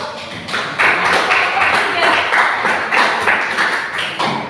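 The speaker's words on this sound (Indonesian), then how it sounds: "Tepuk tangan untuk kelompok 1" A group of people claps for a presenting team in a classroom or training session, loud and close, with sharp irregular hand claps sustained throughout and faint voices under them.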